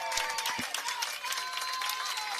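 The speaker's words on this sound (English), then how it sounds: "he gets a good round of applause from the crowd on hand here" Crowd at a West Virginia high school baseball tournament game gives a steady round of applause, a dense even patter of many hands clapping at moderate distance, with a few louder claps near the start.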